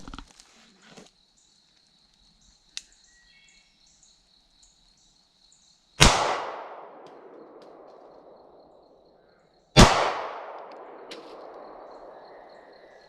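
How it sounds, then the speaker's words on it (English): A Ruger LC9 pistol fired by a woman sounds two sharp, loud reports a few seconds apart, each ringing out with a long echoing decay, after a quiet stretch with faint clicks. "Fire 2 rounds."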